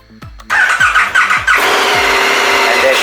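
A 2021 KTM 1290 Super Adventure S motorcycle engine starting: a few quick starter cranks, then the engine fires and settles into a loud, steady idle close by.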